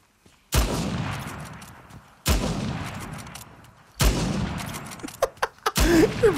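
Gunfire in Uncharted: The Lost Legacy, with three loud, sharp bursts of shots spaced about two seconds apart, each trailing off, followed by a quick run of closer single shots.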